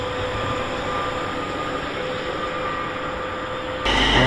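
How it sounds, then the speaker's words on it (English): A GBRF Class 66 diesel locomotive, 66729, passes on the West Coast Main Line at Tamworth, giving a steady loud rumble with a faint high whine, swelling and brightening sharply in the final half second as it draws nearest. "It's a GBRF class 66."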